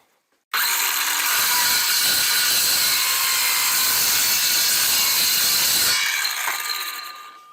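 A power saw cuts through ABS plastic pipe meant for a snow plow blade. It gives a loud, continuous, harsh buzzing cut of about five seconds, close by, starting abruptly and tapering off at the end.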